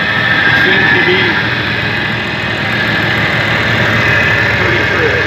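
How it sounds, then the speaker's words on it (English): A Massey-Ferguson 1130 tractor engine, recently overhauled, runs steadily at idle, a loud, close, even mechanical rumble that holds for the whole stretch with no break. "the way the motor starts and runs, it seems to be"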